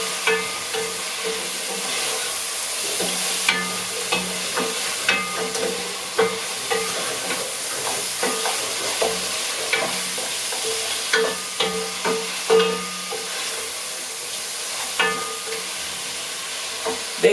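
Beef stew with tomatoes frying in a pot, a steady loud sizzle broken by repeated scraping and clacking strokes of stirring throughout, with no voices.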